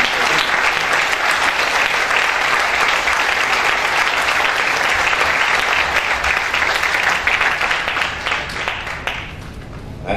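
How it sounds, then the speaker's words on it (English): Crowd at a university convocation applauds a graduating class with dense, sustained clapping that holds steady for about eight seconds, then gradually thins and fades. "please join me once again in giving a strong and rousing applause to this class of"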